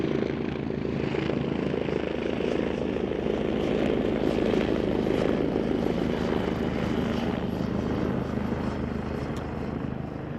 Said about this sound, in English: we have a helicopter landing nearby the hospital